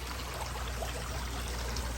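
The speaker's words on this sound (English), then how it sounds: "So I'm planning to drain this water." Water draining steadily from a crayfish pond through a bell siphon, a continuous even rushing flow at a close, moderate level with no pauses.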